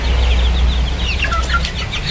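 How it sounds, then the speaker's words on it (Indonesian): Bangkok fighting chickens of several breeds, Pakoi, Mangun and Birma among them, clucking in a backyard pen; a flurry of close, overlapping clucks and chirps over a low steady hum, with no talking. "Ini teman-teman, ini ayam Bangkok semua."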